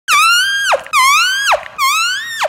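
Three short lip squeaks buzzed on the lips alone as a trumpet range exercise, each a bright high tone that slides up and then drops off sharply, loud and close with brief gaps.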